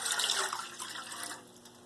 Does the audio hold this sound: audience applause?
no